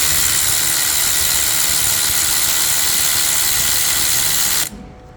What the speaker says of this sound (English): I'm gonna do it with the electric ratchet